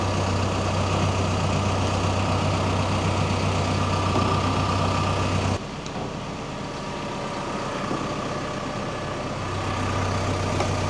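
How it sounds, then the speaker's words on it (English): A truck's engine idles steadily nearby while diesel and gasoline are pumped at a ranch, a continuous low rumbling drone that shifts slightly midway and carries on without talk. "I leave the engine running so that I can keep an eye on that gauge while I'm pumping."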